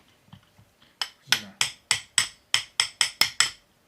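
Hammer striking a tightly stuck part during a repair, about ten sharp, loud metallic blows in a quickening rhythm after a few soft knocks, with no talking.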